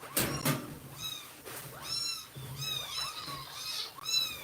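Several little kittens in a household with many cats meow and squeal in repeated high-pitched cries, close and overlapping, mixed with a few soft rustling bumps and no speech.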